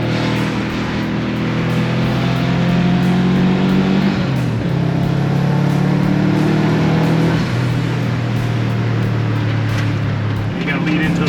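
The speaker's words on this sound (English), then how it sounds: "All the bolts are rattling around in the back." A rally car is driven hard with loose bolts rattling in the back, its engine droning and rising and falling in pitch close up, with light clattering and wind noise throughout.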